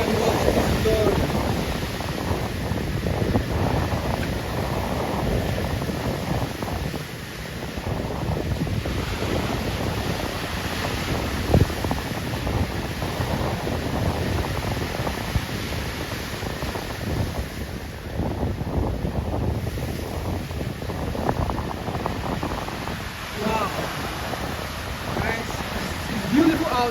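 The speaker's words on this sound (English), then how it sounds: "The waves, the sea breeze out here." Ocean surf rolls in steadily beside Elmina Castle on the West African coast, with sea breeze buffeting the microphone, continuous and fairly loud throughout, with faint voices now and then.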